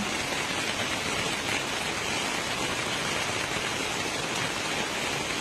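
Steady, dense rain pours down with an even hiss, continuous and fairly loud throughout, no voices.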